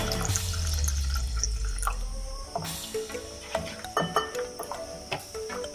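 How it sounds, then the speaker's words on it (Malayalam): Half a cup of water pours in a short gurgling stream into neer dosa rice batter, then drips and wet squishing sounds follow, close by and fairly quiet, with no voices. "1/2 കപ്പ് വെള്ളം കൂടി ഇതിലേക്ക് വീണ്ടും ചേർക്കാം"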